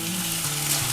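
Tomato sizzles in hot oil with fried ginger-garlic paste for a Bengali katla fish kalia, a dense, steady, close hiss of frying.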